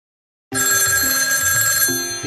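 An LG Octane phone's ringtone rings out loud and close, a steady electronic tone with a shifting melodic pattern that starts abruptly and plays on without pause, with no talking over it.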